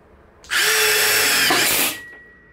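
A power drill drives an all-in-one multi-material screw for wood, metal and masonry in one loud, close burst of about one and a half seconds, its motor pitch shifting near the end before it winds down.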